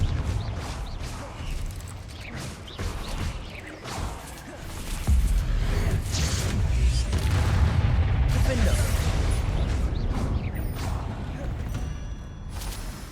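Confringo blasting-curse explosions go off in the video game Hogwarts Legacy: repeated heavy booms and crashing blasts with whooshes, building to a sustained loud roar in the second half, mixed with a voice and combat noise.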